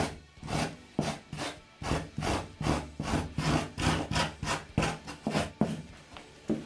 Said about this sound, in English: Next I want to follow that bevel, so I grab my Surform and start to push it up.